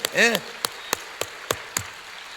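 Scattered individual claps ring out sharply in a Korean church dawn prayer service, about seven distinct hand claps at uneven intervals following a brief voice at the start.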